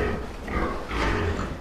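A sow grunts low and close in a farm shed, giving a few short, rough snorts in quick succession.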